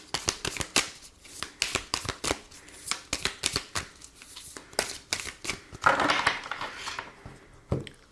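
A deck of tarot cards is shuffled and cut by hand, a rapid series of crisp riffling snaps and soft slaps in uneven bursts, close and clear, with no speech.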